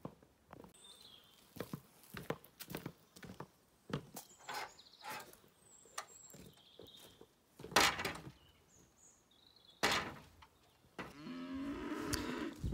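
Cattle mooing in an open field on a farm, several separate low calls from near and farther animals spread across the stretch, with rustling footsteps and small outdoor noises between them.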